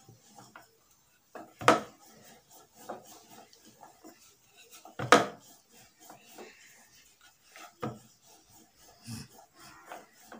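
Wheat-flour dough is rolled on a wooden board with a rolling pin, making soft rubbing rolls broken up by a couple of louder wooden knocks and thuds, close and with no one talking.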